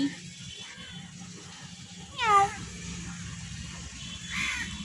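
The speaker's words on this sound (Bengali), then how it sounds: "অনেক কিউট বিড়ালটা অনেক কিউট" A cat gives a single short, rising-and-falling meow midway through, fairly clear above a low murmur of background voices and outdoor ambience.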